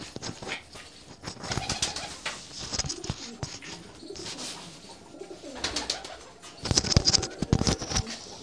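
Pigeons coo in soft repeated bursts close by, with intermittent flurries of wing flapping and shuffling, growing busier toward the end.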